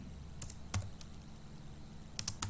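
Typing on a computer keyboard while entering resume text in a word processor: a few quick, faint key clicks in short bursts against a quiet room hum.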